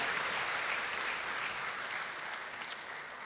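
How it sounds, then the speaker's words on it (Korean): Church congregation applauds to welcome new members, a dense, steady clapping from a crowded room for about three seconds, fading slightly toward the end. "여러분께 박수로 환영하시죠"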